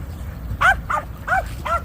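A dog gives four short, evenly spaced yips that sound close and clear, with no one talking.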